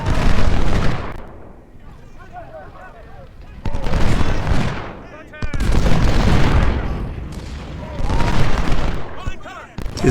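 Video game battle with skirmishers and cavalry engaging: loud, dense bursts of gunfire and booming volleys in several waves, with short quieter gaps between them.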